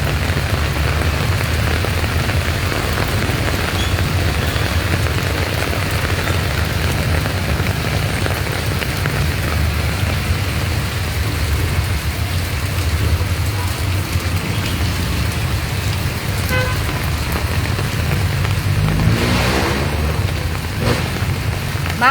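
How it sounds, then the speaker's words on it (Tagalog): Heavy rain pours down steadily at a plaza in Pasig City, a loud, dense, unbroken hiss that lasts throughout, with faint traffic somewhere beneath it. "Bigla po talagang bumuhos itong malakas na ulan."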